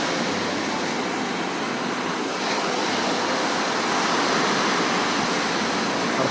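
Ocean surf washes onto Gwangalli beach under rain, a dense, continuous roar of breaking waves that swells slightly louder toward the end, with no voices.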